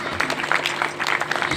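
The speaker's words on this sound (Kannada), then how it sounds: "ಎಲ್ಲರೂ ಜೋರ ಚಪ್ಪಾಳೆ ತಟ್ಟಬೇಕು" A temple or religious gathering crowd claps loudly and steadily in a dense, continuous patter, with some voices mixed in.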